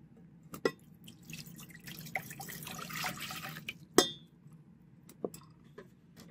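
Regular tap water pouring into a stainless steel saucepan, a soft splashing trickle with a few sharp metallic clinks and drips, close and unaccompanied by speech.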